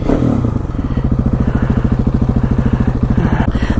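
KTM 701 motorcycle riding with a loud, close, rapid rhythmic engine thumping, steady pulsing firing under acceleration, no voices.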